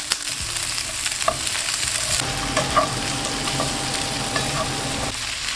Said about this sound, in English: just give it a toss and mix that. You want to soften up those onions and the peppers.